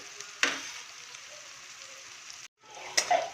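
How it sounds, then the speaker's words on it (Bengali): Dried red chilli and spices fry in hot oil in a pan, giving a soft, steady sizzle with a couple of louder crackling bursts and a brief pause, close by. "এটা লাল লাল করে ভাজবো"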